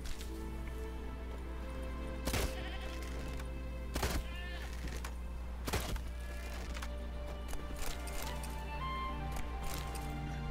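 Goat bleats from the video game The Witcher 3 sound over a steady low hum, with a few sharp thuds and scattered clicks.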